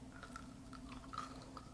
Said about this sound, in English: So let's go ahead and take a bite.